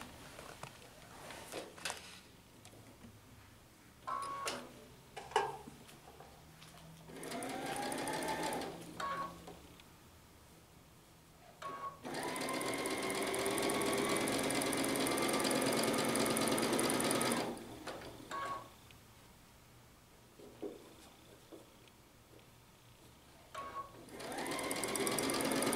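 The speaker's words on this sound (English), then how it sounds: "let me go ahead and sew these two" A sewing machine stitches two fabric pieces together for a quilt block in several short bursts, then one long steady whirring run of about six seconds, close and clear with quiet pauses between.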